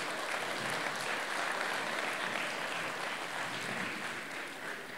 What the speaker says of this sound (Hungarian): Nagy tapsot a gyerekeknek.